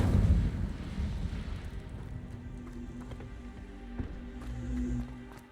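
A fire spell, Incendio, cast in Hogwarts Legacy erupts as a loud burst at the start, then fades into a low, rumbling crackle. Faint scattered clicks follow underneath.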